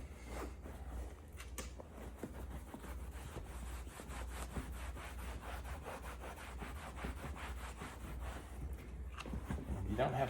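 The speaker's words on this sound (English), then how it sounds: "So you really do want to give it a good scrub, because that's what's going to help release some of the dirt." Scrubbing on a Ferrari F430 leather seat, a steady brushing rub running continuously and close, with repeated short strokes at an even rhythm throughout.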